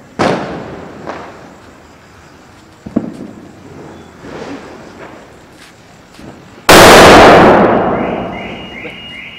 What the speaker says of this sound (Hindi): पटाखे फूट रहे बाहर